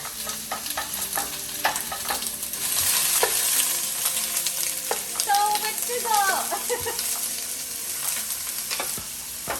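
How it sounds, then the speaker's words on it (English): Onions sizzle and crackle in a hot pan while a utensil scrapes and stirs through them in bursts. "We're going to give both pans a good stir."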